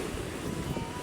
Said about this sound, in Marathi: समुद्राच्या लाटा बघायच्या खवळल्यात.